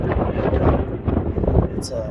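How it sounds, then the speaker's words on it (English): Cold morning wind at Hole-in-the-Wall Campground in the Mojave National Preserve at sunrise: loud, gusty low rumbling buffets close against the microphone, with a voice partly under it. "And it's cold, it's windy,"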